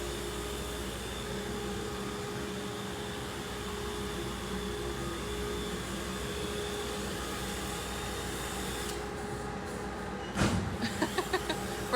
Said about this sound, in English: They've got the duster going. So you're gonna get to see some rug dusting